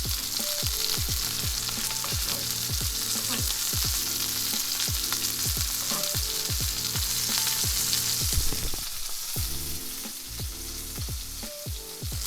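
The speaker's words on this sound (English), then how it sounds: "let's take our spinach out and put it in a skillet with butter" Spinach sizzles steadily in butter in a hot skillet, a dense continuous crackle with regular soft scraping strokes of stirring throughout, loud and close with no voices.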